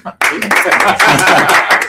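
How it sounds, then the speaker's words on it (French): A group of men in a French business webinar clap for themselves in a sudden burst of close, dense clapping that holds steady for nearly two seconds, with chuckles and voices mixed in. "je vous propose qu'on s'applaudisse, messieurs"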